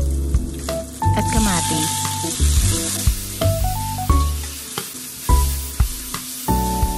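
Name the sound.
garlic, onion and tomato sautéing in oil in a pan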